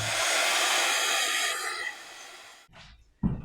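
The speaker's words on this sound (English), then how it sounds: "So I'm just going to grab my heat tool." A heat embossing tool blows a loud, steady hot-air whoosh for about two seconds, then tapers off with a few quieter rustles and a brief knock at the end.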